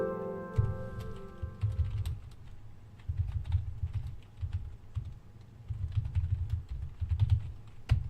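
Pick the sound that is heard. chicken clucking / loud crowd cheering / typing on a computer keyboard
typing on a computer keyboard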